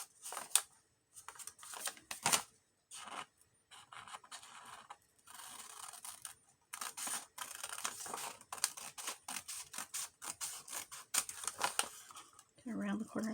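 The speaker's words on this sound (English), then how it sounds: "Just gonna cut on that line." Scissors snip through paper for a junk journal in a run of quiet, close, irregular cuts and crisp rustles, with soft handling noises and a brief voice near the end.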